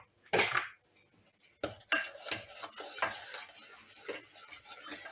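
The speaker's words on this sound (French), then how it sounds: "Vous mélangez à nouveau bien." A utensil stirs chocolate crinkle cookie dough in a bowl after a second egg has gone in, with soft scraping and clinking strokes. One louder clatter comes at the start, followed by a run of quick, uneven taps.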